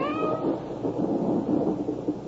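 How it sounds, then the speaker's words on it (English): A cat meows as a radio drama sound effect, a drawn-out, somewhat mournful cry followed by softer meowing sounds over a low rumbling background, heard alone without talk. "Did you hear that? Hear what? The cat."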